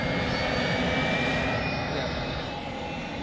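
Airplane engine droning steadily at close range, a broad continuous roar with a faint high whine, loud and unbroken for the whole stretch.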